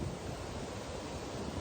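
Strong wind blows outdoors past trees, roaring as a loud, steady broadband rush with gusty buffeting against the microphone and no voices.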